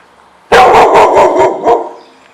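A dog in a home courtyard gives a quick burst of about six loud barks, close and sharp, before the sound fades out.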